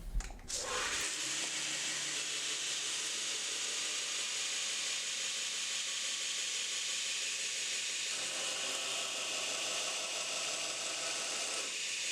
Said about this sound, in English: I'll head over to the belt sander and finish profiling the knife.